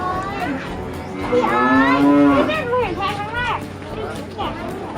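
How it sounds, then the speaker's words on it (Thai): Water buffalo lowing at a farm, a single long, loud moo rising and falling, with people chattering in the background. "เนี่ย เขาเรียกว่าควาย"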